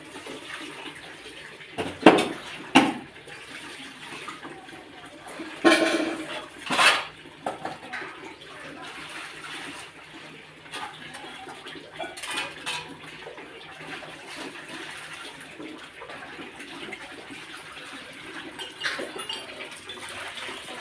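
A metal basin and a wok being washed with water, with clattering knocks and scrapes of cookware in a few sharp bursts over a steady background of running, splashing water.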